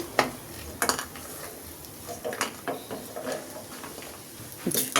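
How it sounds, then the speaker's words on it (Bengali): Fried pumpkin bori lifted out of a frying pan, with sharp metallic clinks and scrapes of a utensil against the pan over a soft background sizzle. "বড়িটা ভাজা হয়ে গেছে, আমি একটু উঠিয়ে নেই"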